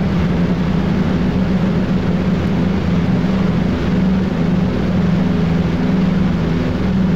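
A Douglas C-47 Dakota cruises in the X-Plane 11 simulator, its engines putting out a loud, steady, unbroken drone that holds even from start to finish.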